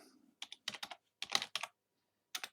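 Keystrokes on a computer keyboard, typed in short irregular bursts of clicks separated by brief silent gaps, close and crisp with no voices.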